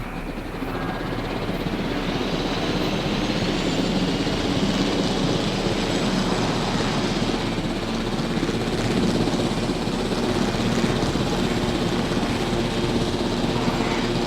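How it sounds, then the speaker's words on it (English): A helicopter flies in the Jurassic World Evolution video game on a prison island, its steady rotor and engine drone loud and continuous, with no talk. "Can also fly this chopper if we feel like it while we're waiting."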